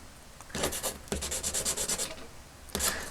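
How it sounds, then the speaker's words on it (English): A nail file rubs along the edge of a vintage Star Wars Star Destroyer toy piece in three bursts of quick, rhythmic back-and-forth rasping strokes, close and crisp, with short pauses between them. "just using a simple nail file here, and I'll rub this piece along and give the edge a slight angle"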